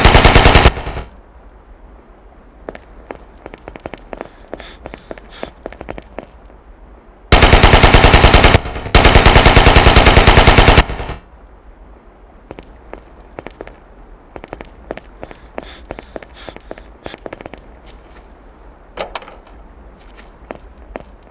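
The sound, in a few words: machine gun fire in a video game training range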